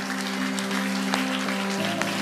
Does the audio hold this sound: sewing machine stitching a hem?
no